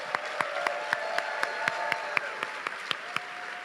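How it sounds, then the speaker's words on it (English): An audience claps for a film cast member walking onstage during a panel event, a moderate crowd applauding steadily with a few distinct nearby claps and faint voices underneath. "Give her a round of applause, guys."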